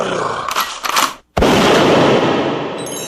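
Base cannon firing: heavy blasts with a brief cut to silence, then a loud sustained roaring boom that slowly fades, set within a dance music mix.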